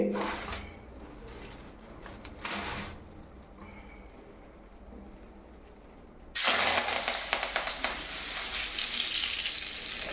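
Curry leaves hit hot oil in a pan while cooking avalakki (flattened rice), giving a sudden loud, steady sizzle and crackle that starts partway through after quieter kitchen background.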